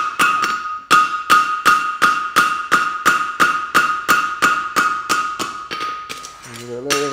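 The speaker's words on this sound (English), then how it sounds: "I've got the heat, so I'm gonna hammer up the outside edge" Close, loud hammer blows on a hot steel bar over an anvil fall in a steady ringing rhythm of about a dozen strikes, slowing near the end as a short voiced sound cuts in.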